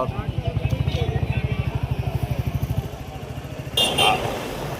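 Motorcycle engine thumping in a fast, steady rhythm up close while riding along a road blocked by buses in Malda district, then easing off with a brief rush of other traffic noise.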